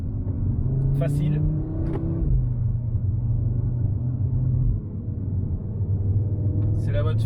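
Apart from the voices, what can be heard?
Audi RS3 Quattro car driving on a slippery race circuit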